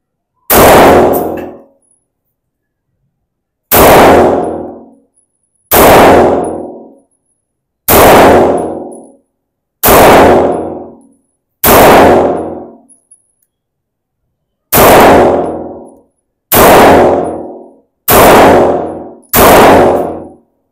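A Grand Power Q1 MK23 rotating-barrel pistol fires FMJ rounds: ten loud, sharp shots, close by, spaced irregularly about two seconds apart, each with a short ringing tail and no talk between them.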